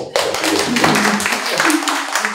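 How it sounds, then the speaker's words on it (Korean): Brief burst of congratulatory clapping from a small audience at a Korean poet's book talk, a dense round of hand claps starting abruptly and holding steady, close and fairly loud, with some voices underneath. "축하의 박수 한 번만 더"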